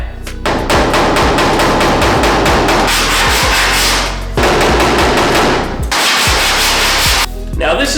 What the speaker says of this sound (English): I'm going to take my pick hammer and I'm going to tap that area a little bit